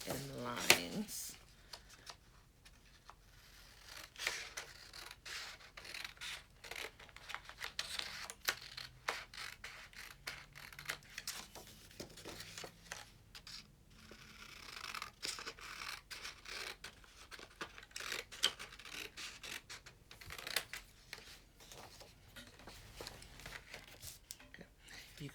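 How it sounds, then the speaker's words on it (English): Scissors snip and scratch steadily through paper while a paper craft film camera is cut out, a close, quiet run of small crisp cuts and rustles with a person talking over them. "I'm just gonna cut around these knobs and lines"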